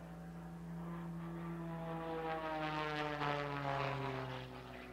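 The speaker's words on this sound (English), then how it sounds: "he calls this the Leo roll" Propeller aerobatic airplane performing a Leo roll at the SUN 'n FUN air show, its engine droning loud and steady with a shifting, rising-and-falling pitch as it maneuvers overhead.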